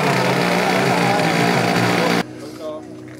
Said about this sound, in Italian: I motori vengono messi in moto.